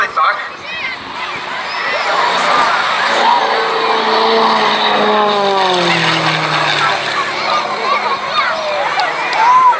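A very light carbon-fibre aerobatic plane with a high power-to-weight ratio performs at a seaside air show in Cleethorpes, its propeller drone rising and falling loudly while a commentator talks over it.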